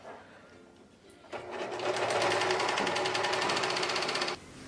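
Sewing machine stitching a dress seam as fabric is fed straight through: a steady, fast mechanical whir starts after a quiet moment, runs evenly for about three seconds, then stops abruptly.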